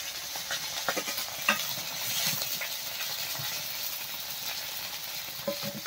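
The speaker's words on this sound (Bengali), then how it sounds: "আর অল্প কিছু মাছ কিন্তু এখনো ভাজা চলছে" River fish from the Sundarbans frying in oil, a continuous close sizzle with soft crackles and occasional small clicks, no talking.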